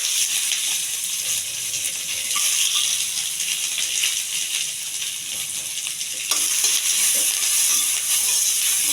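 Onions, cumin, mustard seeds and curry leaves fry in hot oil with a steady, bright sizzle that holds throughout, close and loud, with a brief louder crackle near the end.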